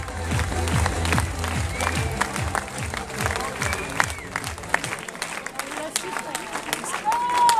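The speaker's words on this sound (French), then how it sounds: "on peut l'applaudir bien fort" Spectators clap and cheer as a runner reaches the finish of the 100 km de Millau ultramarathon. Busy outdoor applause runs throughout, and an announcer's voice and crowd chatter sit on top of it.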